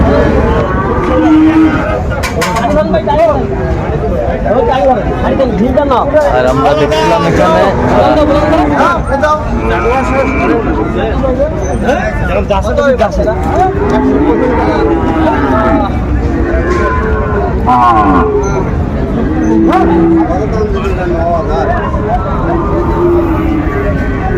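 Sahiwal bulls and other cattle low and moo repeatedly at a crowded livestock market in Cumilla, their calls rising over constant loud crowd chatter and nearby conversation.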